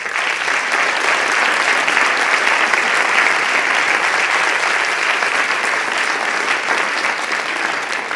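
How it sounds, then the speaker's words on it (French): A school audience gives a long, loud, sustained round of applause for teachers who led a project, with many hands clapping in a dense, even roar that barely changes from start to finish. "applaudir très fort"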